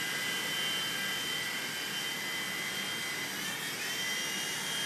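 A Blade mCX remote-control helicopter in flight, giving a constant high-pitched whine and whir of small spinning rotors, close and steady, with a slight pitch shift near the end.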